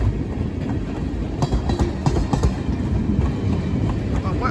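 A freight train rolls past at close range, its glue and LPG tank cars giving a continuous loud rumble with rhythmic clickety-clack of wheels over rail joints.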